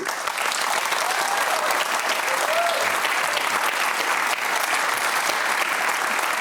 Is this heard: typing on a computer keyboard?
no